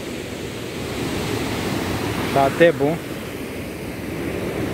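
A river running full of water near the ruined Ponte Queimada in Marliéria, Minas Gerais, gives a steady, close rushing hiss throughout, with a brief spoken remark partway through.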